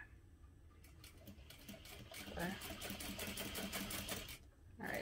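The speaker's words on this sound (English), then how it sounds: "my sewing machine's not threaded right" A home sewing machine runs in steady bursts, stitching straight edges of a holiday stocking with a narrow seam allowance; the rapid mechanical whir is close and fairly loud, with brief pauses and a voice talking over parts of it.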